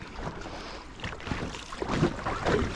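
Packraft paddled on open water: repeated paddle strokes splash and swish at a steady rhythm, close to the microphone, against a constant rush of wind noise.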